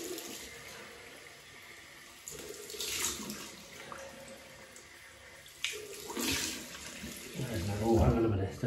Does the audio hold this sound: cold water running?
yes